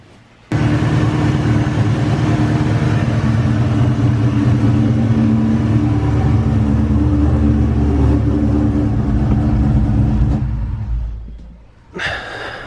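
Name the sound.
Ford Cobra engine with Eaton supercharger starting and running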